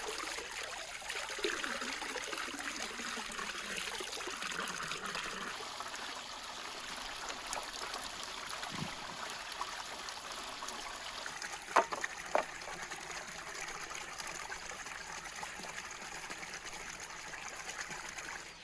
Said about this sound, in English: I kick things off by washing the lamb's legs,